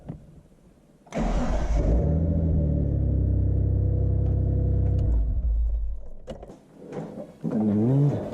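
A Mitsubishi 3000GT under repair for a click no-start fault fires up on a test run, its engine rumbling loud and close for several seconds, dropping off, then revving again near the end.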